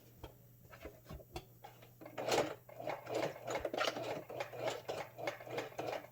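A sewing machine stitches a hat in a quick, rhythmic whirring run of needle strikes, starting with a few slow stitches and then settling into a steadier busy pace, close and with no talk.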